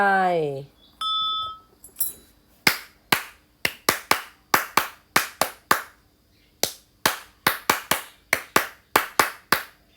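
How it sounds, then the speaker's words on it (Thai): A teacher claps hands in a classroom, a series of sharp, loud claps in irregular bursts following brief speech and a few chime-like tones at the start. "เป็นเสียงปรบมือของคครูเองนะคะ"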